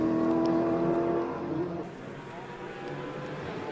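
Lotus Exige race car at the Simola Hillclimb, its engine note revving hard and loud at first then easing back, with a steady motor drone continuing underneath and faint commentary-like voice in the background.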